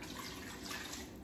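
Water poured into a pot for soaked rice cooked with coconut milk, a steady continuous splashing pour lasting about a second, close and fairly quiet.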